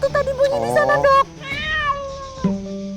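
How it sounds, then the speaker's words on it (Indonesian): A cat meows loudly and close up, several drawn-out meows in quick succession, with a voice speaking briefly near the end. "Itu kucing."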